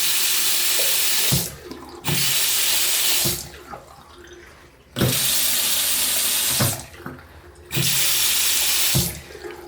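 Water gushes from a tap in three on-off bursts after its aerator has been cleaned, a loud steady hiss that cuts out between runs into quieter sink noises and drips.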